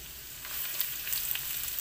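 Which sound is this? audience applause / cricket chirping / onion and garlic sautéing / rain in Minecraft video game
onion and garlic sautéing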